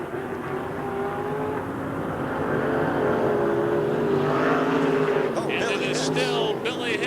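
USAC midgets and winged super modifieds race at Raven Raceway in 1987, their loud engines droning and rising in pitch while a commentator talks over them; a short crackling burst appears near the end.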